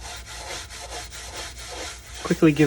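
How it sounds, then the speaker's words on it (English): Steel wool (grade 0000) rubbed over a flamed maple top on an ES-335 kit guitar, giving a steady soft scratchy swishing with rhythmic back-and-forth strokes, close up, alone until a brief voice near the end. "I take some 4-aught steel wool and just quickly give it a"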